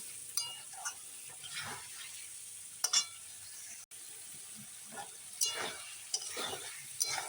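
Spice paste and potatoes are sautéed in oil at close range: a faint sizzle is broken by irregular scraping and clinking strokes of a spatula against the pan.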